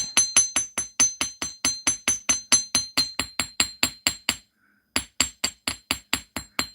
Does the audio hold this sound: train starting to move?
no